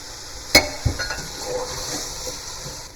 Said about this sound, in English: I'm going to add the potatoes.